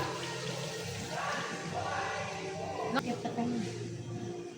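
Water poured into a cooking pot for tinolang manok broth gushes and splashes for a few seconds, with voices talking in the background.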